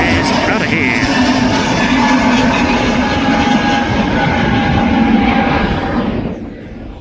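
Qatar Airways airliner roaring in to land on the Manchester runway, a loud steady jet engine drone filling the clip before easing off near the end.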